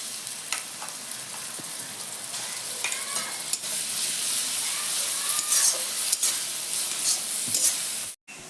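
Onion frying with ginger-garlic paste in a pan for chicken biryani, giving a steady loud sizzle with scraping stirs throughout and a brief cutout near the end.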